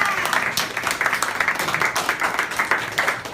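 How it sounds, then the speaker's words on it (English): An online office-hours group applauds a teaching assistant, steady close clapping from a few people running throughout the short stretch, fairly loud with no talk over it. "So let's give her a big round of applause."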